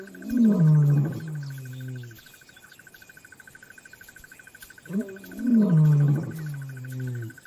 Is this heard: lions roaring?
yes